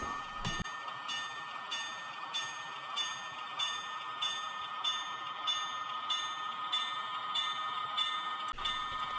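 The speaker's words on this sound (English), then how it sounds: "Our last shot is of the freight train arriving at Fairmont." An HO scale model freight train on a Baltimore and Ohio layout rolls in steadily with rhythmic clicking over rail joints and a metallic ringing, moderately faint and with no voices.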